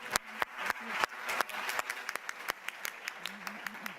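A conference audience applauds a panel of speakers, a dense patter of clapping that rises and holds steady, with some talk mixed in underneath.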